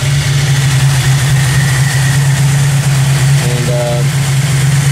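A car engine idles steadily after warming up to temperature, a constant low hum with a steady drone and no revving.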